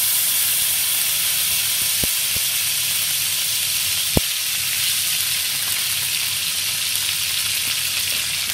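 Desi ghee sizzles and hisses steadily in a hot frying pan, a continuous crackling fry with a couple of sharp clicks partway through.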